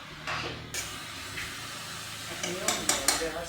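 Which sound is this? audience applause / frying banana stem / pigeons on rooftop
frying banana stem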